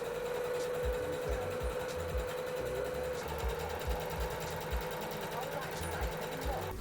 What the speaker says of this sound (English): So what I'm gonna do is just fold this in and sew it down